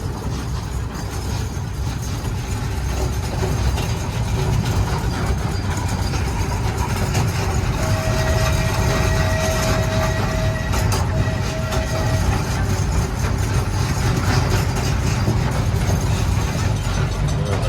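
A train rolls along rails at Travel Town in Los Angeles, a steady loud rumble and rattle of wheels and cars that fills the whole stretch without pause, with a faint whistle-like tone partway through.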